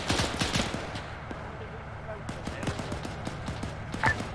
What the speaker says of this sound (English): There's a lot of people shooting at us in this courtyard